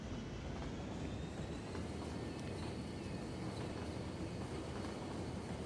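A train runs along its track in the city-building game Cities: Skylines, a steady rumbling clatter of rolling wagons with a faint metallic squeal over it, continuous and moderately loud with no voices.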